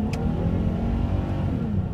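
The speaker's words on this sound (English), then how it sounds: "First real acceleration today. Wasn't even at full throttle." A car accelerating, short of full throttle, with a steady low engine drone and faint whirring throughout, close and fairly loud, no speech.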